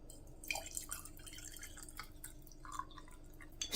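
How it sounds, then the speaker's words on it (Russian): Water trickles and drips into a bowl holding sunflower oil, a few light splashes over a quiet background. "Заливаю водой."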